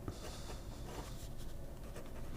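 A fountain pen with a medium nib scratches steadily across paper, laying down a wet line with slight feedback; the soft, continuous scratching sits close and quiet, with no voices.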